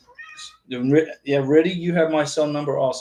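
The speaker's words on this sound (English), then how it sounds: "That's our cat right here." A pet cat meows in short calls, mixed in with someone talking steadily close by.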